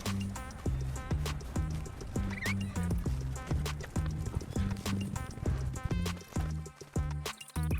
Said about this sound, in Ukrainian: Далі звемо коня і біжимо до дерева з картою.